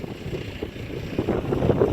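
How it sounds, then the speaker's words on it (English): Strong, gusty wind buffets the microphone outdoors in Cape Coral the morning after Hurricane Irma, a close, rumbling roar that swells louder toward the end with no talking. "It's still windy."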